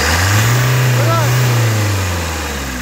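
A car engine blipped during an EGR valve check swells from idle into a short rev and settles back, loud and close, with someone talking over the running motor.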